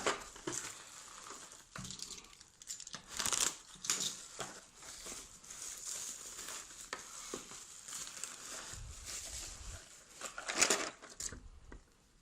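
A plastic bubble mailer from AliExpress holding a shaving machine is torn open and handled, giving steady, close crinkling and rustling with a few louder crackles throughout, and no talking.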